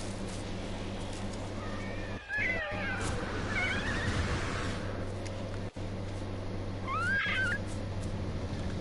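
A cat creature in the No Man's Sky video game meows several times in short rising calls over a steady low ambient hum, with a couple of brief dropouts.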